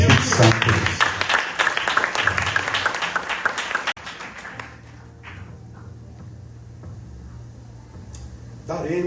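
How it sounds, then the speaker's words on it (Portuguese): A church congregation at a family service claps loudly with rapid, dense hand claps for about four seconds, then the clapping stops abruptly, leaving quieter room sound with a low sustained tone and brief speech. "Vamos aplaudir o Espírito Santo por isso."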